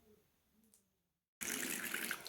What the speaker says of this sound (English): Alien tape tells us we can rinse it off after we've used it.